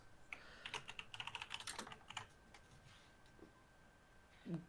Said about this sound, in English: My clacky keyboard.